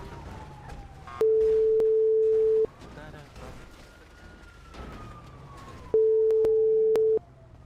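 A phone rings in GTA V with two long, steady electronic ring tones separated by a gap of quieter in-game background sound and faint talk.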